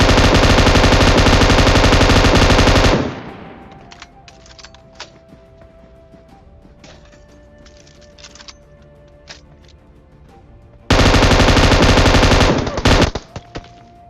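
Gunfire in the shooter game PUBG: a sustained loud burst of rapid automatic fire, a quieter stretch of faint clicks and keyboard tapping, then another dense burst of rapid shots ending in a few scattered reports.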